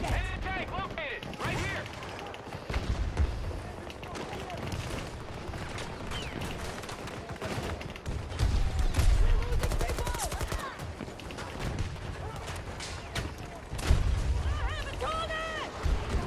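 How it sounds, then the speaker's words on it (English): PP submachine gun fired from the hip in Battlefield on Arica Harbour: rapid automatic bursts crackle amid distant battlefield explosions and gunfire, with someone talking over the action. "PP hip fire is so strong"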